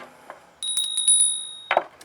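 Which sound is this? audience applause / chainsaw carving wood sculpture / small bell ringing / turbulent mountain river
small bell ringing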